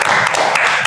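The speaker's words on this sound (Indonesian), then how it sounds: "beri tepuk tangan" Classroom or audience members clap in a short, dense burst, a close wash of hand claps lasting under a second.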